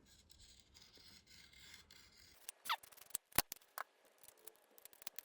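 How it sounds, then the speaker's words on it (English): A very sharp knife trimming thin wood head veneer on a guitar, heard as a few close, quick scraping slices and clicks after a quiet stretch, with no talking. "the gross sort of trimming I can do with a very sharp knife, because this is relatively thin"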